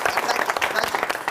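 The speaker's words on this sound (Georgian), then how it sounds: "ბატონებო ტაში" Audience applause at a comedy show, a brief burst of dense clapping heard up close with a voice speaking over it.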